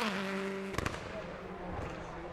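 Subaru exhaust firing loud, gunshot-like pops as flames shoot out, a sharp cluster of close bangs cutting through engine rumble and background chatter.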